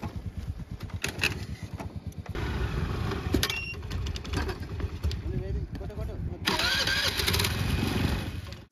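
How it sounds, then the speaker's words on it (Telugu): Motorbikes in the cold desert night are kick-started again and again, their engines sputtering and catching briefly with rough bursts of revving but not settling, while people talk nearby. "ఇప్పుడు మన బైక్స్ అయితే స్టార్ట్ అవ్వట్లేదు, ఎందుకంటే చలి వల్ల ఇంజిన్ అనేది ఫ్రీజ్ అయిపోయింది కాబట్టి"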